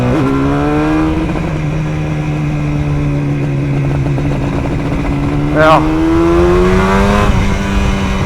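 A Yamaha RD400 two-stroke street motorcycle being ridden, its loud buzzing engine holding a steady pitch that rises and falls slightly, close by and continuous, with wind noise and a brief spoken word over it.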